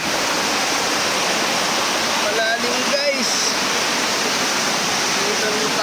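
A waterfall on the upper tier of a multi-level falls roars in a steady, dense wash of rushing water that never lets up, close and loud.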